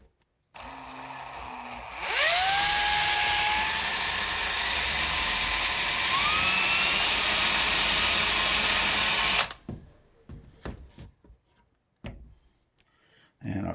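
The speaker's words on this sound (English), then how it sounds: "I am going to attempt to drill through the middle here," A power drill bores into a vintage Trek bicycle's shifter boss cap, its motor spinning up with a rising whine and holding a loud, steady high-pitched drone for about seven seconds before stopping, followed by a few light clicks and handling sounds.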